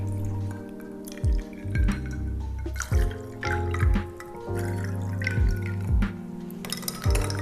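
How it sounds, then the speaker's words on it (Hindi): Cold water goes into a glass of khus syrup over ice cubes, a close liquid trickle broken by repeated clinks and knocks of ice against the glass. "ठंडा पानी डाल दीजिए"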